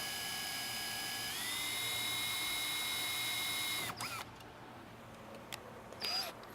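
A power drill bores through a double-wall steel strut tower on a Camaro, its motor whining steadily and rising in pitch for about four seconds before stopping, followed by a brief second burst.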